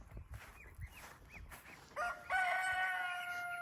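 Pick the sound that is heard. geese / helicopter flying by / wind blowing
geese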